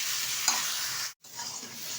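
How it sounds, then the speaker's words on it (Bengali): Taro leaf greens cook in a pan while being stirred, giving a close, steady sizzle with scraping motion that cuts out briefly for a moment before resuming. "ভালোভাবে এবার আমি শাকটা নেড়ে চেড়ে রান্না করে নেব"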